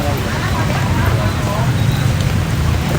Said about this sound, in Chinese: 好了，现在又开始下雨了。